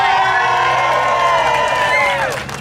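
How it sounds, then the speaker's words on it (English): A crowd at a Seattle rally of Eritrean justice-seekers cheers and whoops for the organizers, a dense sustained roar of many voices that fades toward the end. "I just want to give a round of applause for everybody who helped organize this"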